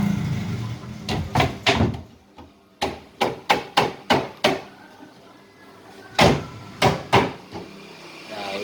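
Drawers being fitted onto the support rails of a four-sliding-door wardrobe during assembly, heard as a series of sharp wooden knocks and thumps, some in quick runs, with short quiet gaps between them.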